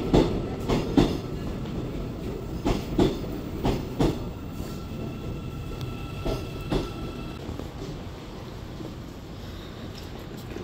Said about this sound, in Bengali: আমাদের ট্রেনও চলে আসছে